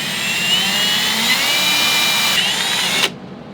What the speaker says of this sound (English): To start, I'll drill a hole in one end of the stick.